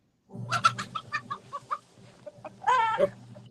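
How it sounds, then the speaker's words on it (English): Chickens cluck nearby in a quick run of short, pecking calls, followed by a louder drawn-out squawk. "Chickens."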